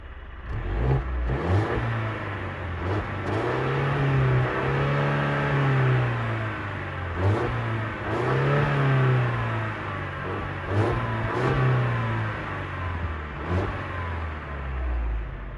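A 2023 Mercedes-Benz GLC 300 Coupe with a soft rev limiter at 4,000 rpm is revved while parked, its engine rising and falling in several repeated steady swells, loud and close, with no talking.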